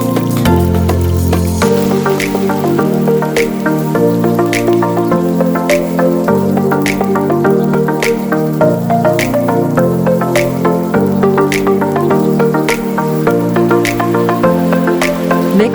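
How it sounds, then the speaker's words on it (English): Sliced garlic and half an onion fry in hot canola oil in a pan, giving a steady, close sizzle and crackle that continues under looping background music. "Heat 2 tablespoons of canola oil in the pan. Then add 4 cloves of garlic sliced. Then a half onion sliced."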